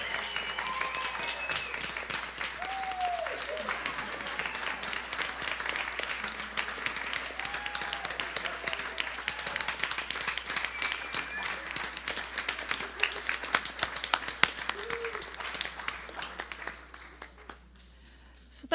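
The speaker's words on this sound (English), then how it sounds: "another round of applause for our 2025 Grace Note recipient" A crowd applauds an award recipient at the 2025 Grace Note Award, sustained and even for many seconds before thinning out, with a few brief voices and whoops mixed in.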